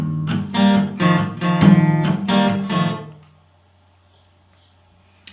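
Acoustic guitar strums bars 3 and 4 of a song with a steady chunka-chunka rhythm and bass notes, then stops and rings out into near silence.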